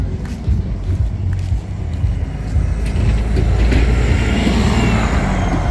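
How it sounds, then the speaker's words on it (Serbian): A city bus rumbles past on a street in Čanj, a loud low engine drone swelling as it nears, with faint street ambience around it. "Evo ga, gradski autobus."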